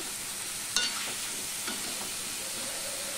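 Vegetables are stirred into hot tempering spices in a pan for a Bengali vegetarian labra, giving a steady close sizzle with a sharp clank of the spoon near the start and softer scraping after.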